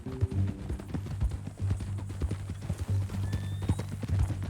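Horse hooves clip-clopping in the video game Red Dead Redemption 2, a steady close rhythmic walking gait of hard knocks with a brief whinny-like sound near the end, no talking.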